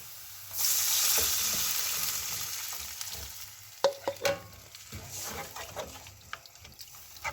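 Tamarind water hits sautéed rasam powder in a hot pan for paruppu rasam, setting off a loud, steady sizzle that slowly fades, followed by a few sharp clinks of stirring against the pan. No one speaks.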